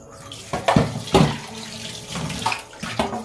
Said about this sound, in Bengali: আর একটু সামান্য পরিমাণে জল দিয়ে নিচ্ছি জল দিয়ে ব্যাটারটা একটু ভালো করে করে নেব